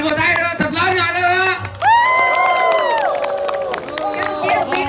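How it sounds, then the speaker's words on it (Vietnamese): Audience at an MC-hosted Vietnamese stage show erupts in loud cheering and clapping, with a sung or shouted voice at the start and crowd noise holding steady throughout. "một tràng vỗ tay nữa, thật lớn nữa nữa"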